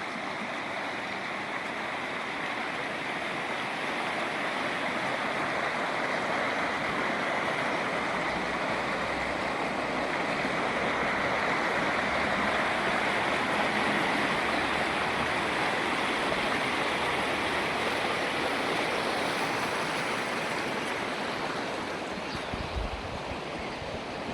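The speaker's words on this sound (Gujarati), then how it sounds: "આ અમારી નદી વહી જાય" Steady rushing water flows continuously, a broad even roar like a stream or river close by, with no voices.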